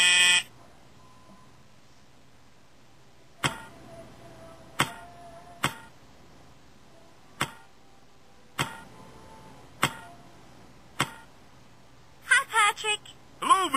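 A series of sharp, short electronic beeps from a video game sounding at irregular intervals over a quiet background, with a burst of brighter chirping tones near the end.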